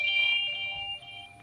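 An Apple Watch find-my-phone alert plays on a phone: a brief, loud, bright electronic tone with sustained beeping pitches, heard alone without talking.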